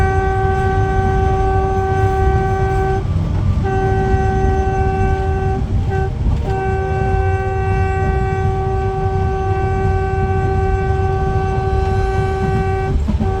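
A train approaching Sihanoukville railway station sounds a long, loud horn, held almost continuously over the rumble of rolling cars and briefly broken by short gaps, close and alone without talk.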